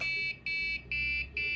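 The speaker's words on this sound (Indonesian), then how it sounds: "servo bergerak, dan buzzer berbunyi" An electronic buzzer sounds after an RFID tap, giving four short, steady high beeps in a regular on-off rhythm, close and clear over faint background hum.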